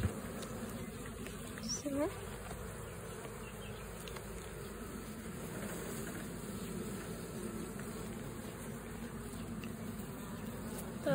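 Honeybees buzz steadily at an open beehive during a beekeeper's hive inspection, a dense continuous drone from many insects close by, with a brief spoken word near the start.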